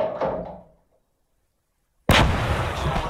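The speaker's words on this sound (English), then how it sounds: "I think my mortar just took it out in the shot." A mortar fires in the World War II game Gates of Hell: Ostfront. A muffled burst fades to silence, then a sudden, loud, close blast breaks in and rumbles on.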